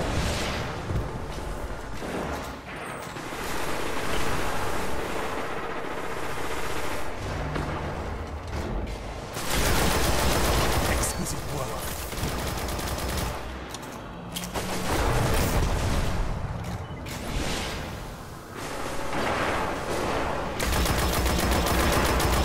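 Dense, sustained video game gunfire with heavy ammunition and explosive booms, loud and continuous for the whole stretch, with bursts rising and falling and no clear gaps.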